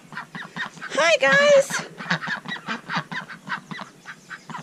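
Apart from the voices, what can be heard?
ducks quacking and honking in a pen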